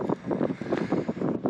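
Strong wind gusts of about 40 miles an hour buffet a campsite during a storm, a low, rough roar that rises and falls quickly against the microphone, fairly faint and with no voices.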